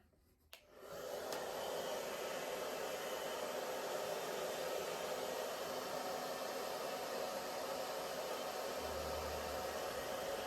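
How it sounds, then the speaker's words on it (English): A hair dryer switches on with a click and blows a steady, close rushing stream of air while fluffing a long-haired dog's coat, continuing without pause and without talk. "you fluff it up with the dryer."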